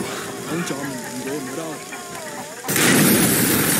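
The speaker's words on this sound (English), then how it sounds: "Mason, let's see what this Semtex can do." A Semtex charge detonates in Call of Duty Black Ops, a sudden loud, broad blast that bursts in near the end and roars on, following voices talking over a steady battlefield rumble.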